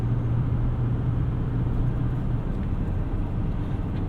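A 2024 Chevrolet Silverado 2500HD High Country heavy-duty truck engine runs with a steady, deep low rumble and a constant droning hum, loud and close, with no talking.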